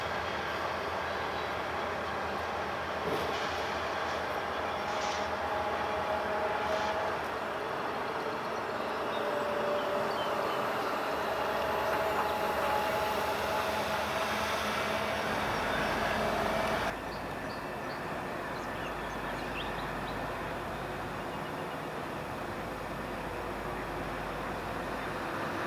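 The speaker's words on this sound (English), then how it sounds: "the engineer has no problem getting the 4 locomotives up to track speed" A freight train led by four diesel locomotives accelerates to track speed, a steady heavy rumble and rolling wheel noise heard from trackside at moderate distance, continuous throughout with a shift in tone partway through.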